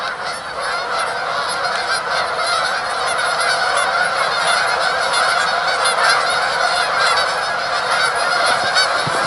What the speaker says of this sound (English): the geese just noticed me and I just noticed them